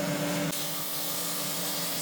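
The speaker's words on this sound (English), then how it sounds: "Anyway, over to the sander." A power sander working on wood for a custom SG-style guitar build, a loud dense grinding whir with a steady hum, shifting in tone partway through as pressure changes, close and continuous without talk.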